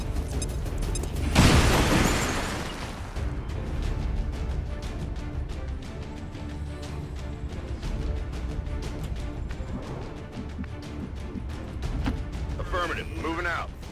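A grenade explodes in a video game, one loud boom with a burst of debris near the start, followed by ongoing gunfire, clatter and game sounds, with voices talking throughout.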